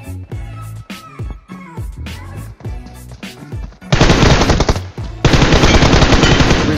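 Video game machine gun fire: several short bursts of loud sharp shots, then two long dense sustained bursts of rapid automatic fire, alone and close.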